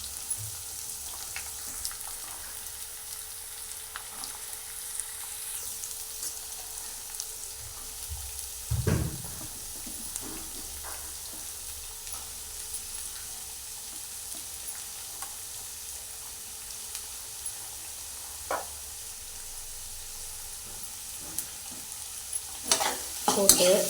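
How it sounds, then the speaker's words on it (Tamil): Chopped onions frying in hot oil and being stirred in a pan for Tamil karuvadu thokku (dried fish relish), giving a steady soft sizzle with occasional spoon scrapes and clinks, no talk. "சிம்மில் வச்சு இதில் இப்போ கட் பண்ணி வச்சுருக்க வெங்காயம் எல்லாத்தையும் போடுறோம்."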